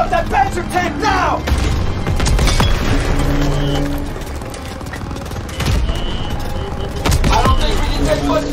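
Call of Duty WWII battle against a German Panzer tank, with loud bursts of gunfire and heavy explosions coming in waves, and voices shouting through the din.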